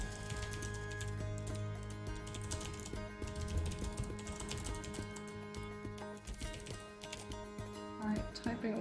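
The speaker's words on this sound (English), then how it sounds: "Alright, typing a little message." Steady, fairly quiet clatter of keys being typed on a computer keyboard continues throughout, with a low background hum underneath.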